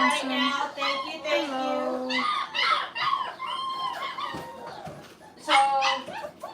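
Young puppies in a litter whimper, whine and yip in high, wavering cries, sometimes overlapping, close by, with a person talking softly in between.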